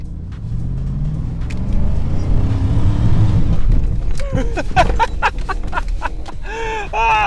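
A Ford Focus converted into a monster truck climbs uphill off-road, its engine a loud, steady rumble that builds as it strains. Sharp knocks and bangs from the rough ground follow, and a few voices break in near the end.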